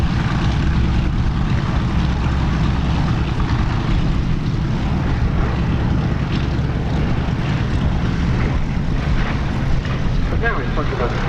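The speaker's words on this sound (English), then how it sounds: "Now in front of us, the Bristol Blenheim 1F." Bristol Blenheim 1F twin-engine aircraft flying at the Duxford Battle of Britain airshow, a steady engine drone with wind noise, heard under continuous public-address commentary.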